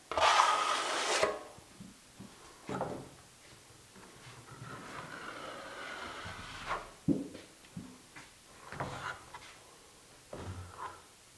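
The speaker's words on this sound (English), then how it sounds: "load up the top side of my trowel and just squish it into that corner" A trowel spreads and squeezes drywall mud into a corner bead, giving soft, wet scraping strokes in irregular bursts, close up and quiet, with a louder rasp at the start.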